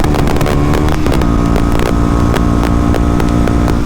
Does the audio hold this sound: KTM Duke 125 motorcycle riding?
yes